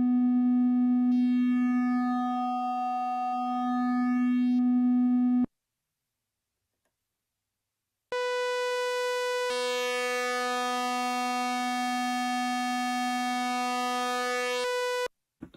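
Steady buzzy analogue synthesizer oscillator tones from a KORG Minilogue held for several seconds, a brief silence, then a brighter, harmonically rich tone that shifts once partway through as the waveform shape changes.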